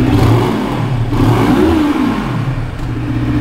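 A Benelli TRK 251 motorcycle engine running close by, a loud steady mechanical drone with a smooth rise and fall in pitch as the throttle is blipped.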